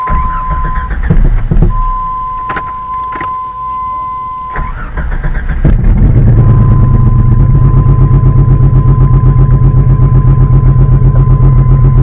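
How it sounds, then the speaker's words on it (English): A Jeep Grand Cherokee with new four-hole injectors cranks with steady beeping chimes, then catches and runs loudly close by, settling into a rough, uneven rumble from a misfire. "I think there's a misfire."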